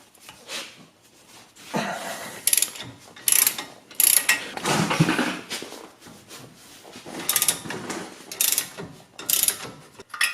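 A hand ratchet clicks in quick bursts while loosening the front brake bolts on a 1999-2007 Ford Super Duty F-250 4WD, with several close, loud runs of ratcheting and short pauses between them.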